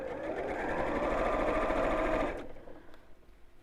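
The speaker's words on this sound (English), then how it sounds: "just sewing along that first crease" A sewing machine runs steadily along the first crease of a strip of binding for about two seconds, close and continuous, then stops and leaves a quiet room.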